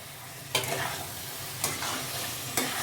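Fried cauliflower and potatoes are stirred into a frying spice masala, with three sharp spatula scrapes at even intervals over a steady, close sizzle.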